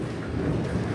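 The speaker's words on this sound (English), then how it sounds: "it's raining so hard" Heavy rain pours steadily at close range, a dense low rumble filling the whole moment, with no distinct thunderclap standing out.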